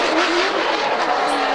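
A Flanker F drift car with a custom RDS-built engine revs hard during qualifying at Ryazan, a loud, continuous high-pitched engine scream close by, no talk.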